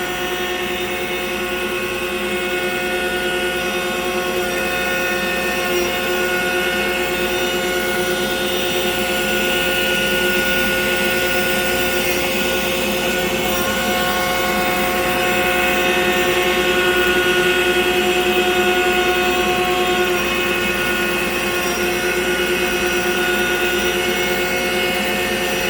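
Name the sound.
Altmill CNC router milling a workpiece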